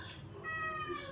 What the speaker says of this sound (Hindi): एक ये लगे रहता है म्याऊं म्याऊं म्याऊं म्याऊं म्याऊं